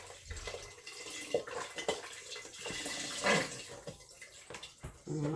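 Chicken broth glugs and splashes as it pours from a quart carton into a pot of sausage and chorizo soup, a steady close liquid rush with uneven gurgles and bursts.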